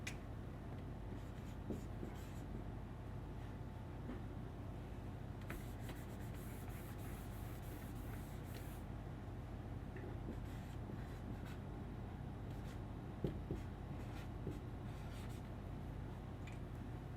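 Marker or chalk scratches across a classroom board in a physics lecture, a faint continuous rubbing with occasional taps as strokes begin and end, over a low steady room hum.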